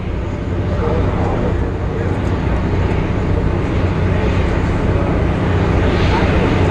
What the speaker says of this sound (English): all for the single moment when the Concorde lands here in Rhode Island